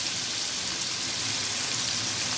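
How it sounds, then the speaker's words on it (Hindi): Chopped onions sizzling in hot ghee, a steady dense frying hiss throughout with no pauses and no talking. "अब हम इनमें जो है घी गर्म हो चुका है अच्छी तरह से। तो बिस्मिल्लाहिर्रहमानिर्रहीम पढ़ के हम इसमें प्याज ऐड कर देंगे।"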